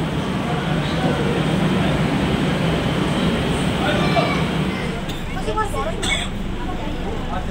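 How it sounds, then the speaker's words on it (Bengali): Metro train standing at an underground station platform, a steady loud rumble and hum of the carriage filling the space, with crowd babble and people talking throughout. "তো ট্রেন এসে গেছে, আমাদেরকে তাড়াতাড়ি উঠতে হবে"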